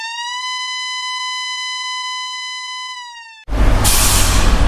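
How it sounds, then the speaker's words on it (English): A fire engine siren holds a steady, loud electronic tone for several seconds, then breaks off into a burst of broad noise. "This is a fire engine."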